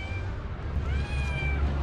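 A cat up in a tree meows repeatedly over a steady low outdoor rumble, its drawn-out cries rising and falling at moderate distance.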